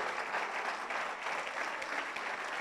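A church congregation applauds its pastors for 19 years of ministry, a brief burst of moderately distant, even clapping with no voices over it.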